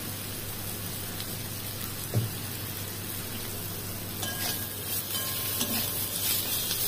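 Cumin and jaggery fry in oil in a pan for a country chicken and potato curry, giving a soft, rain-like crackle with a few scattered pops and a stir.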